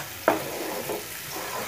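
Tomato paste frying in oil in a pan for spinach paneer, stirred with one sharp scrape followed by a soft continuous sizzle and faint stirring scrapes, close and fairly quiet.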